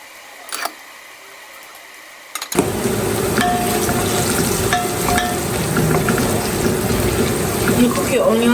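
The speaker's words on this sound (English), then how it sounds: "You cook your onion until it's golden brown." Onion frying in a pan for a Jamaican rice dish, a steady close sizzle and crackle that starts abruptly after a brief quiet moment and continues evenly, with light utensil clinks.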